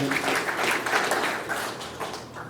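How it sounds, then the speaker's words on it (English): Audience applause at a family fundraiser event, a steady wash of many hands clapping that stays fairly loud and even throughout, then eases slightly toward the end. "obligatory applause"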